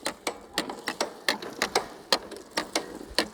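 A precision seed drill sowing Rakel seeds in a field, making a steady run of sharp mechanical clicks, roughly three per second, close by with a light background rustle.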